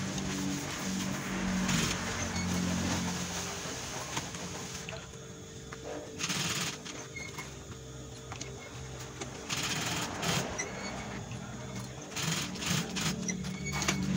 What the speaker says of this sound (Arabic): دابا تجي من الجهة الاخرى كتخيط بنفس الطريقة